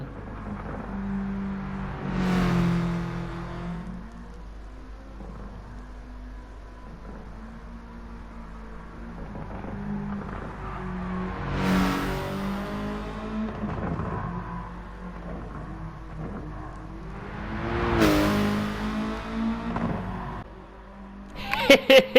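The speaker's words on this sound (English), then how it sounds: "That upshift gurgle the car has that every time it upshifts." A Subaru race car in Gran Turismo 7 revs hard on track, its engine rising steadily and breaking into a gurgling burble at each upshift, three shifts spaced through a continuous, fairly loud drone.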